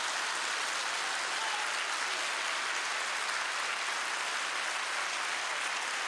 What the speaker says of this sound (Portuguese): Vamos aplaudir o Senhor, o melhor aplauso.